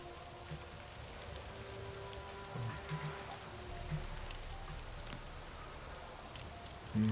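Steady rain patters in the video game Witcher 3 as a soft, even hiss of drops on surfaces, faint and continuous for several seconds with no voices.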